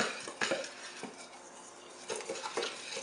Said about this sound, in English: And then I kind of give those a little stir.